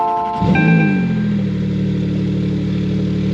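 A Porsche on a mountain rally through the Appalachians revs sharply once and then settles into a loud, close, steady idle rumble, with no talking.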